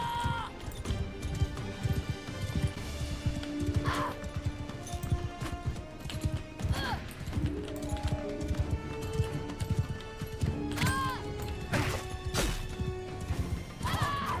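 Horse galloping in the video game Mount & Blade Bannerlord, rapid repeated hoof clip-clops over a busy mix of clashes, thuds and an occasional whinny, continuing throughout.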